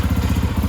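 Kawasaki KPX 250 dual sport motorcycle engine running just after starting, a loud, close, steady low chugging idle with rapid regular pulses and no talk.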